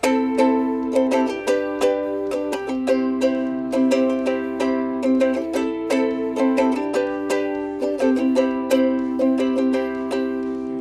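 An acoustic guitar strums the chord progression of a song in a steady down-up rhythm, chords changing every couple of bars, played close and clear.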